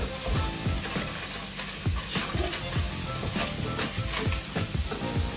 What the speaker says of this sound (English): halfway through, you want to shake the fries up a little bit